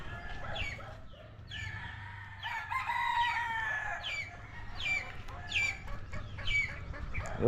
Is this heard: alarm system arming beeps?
no